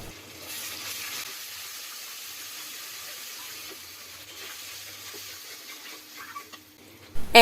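Onions frying in a pan with ginger and garlic paste being stirred in, a faint steady sizzle and hiss with soft scraping, then a few louder clatters at the end.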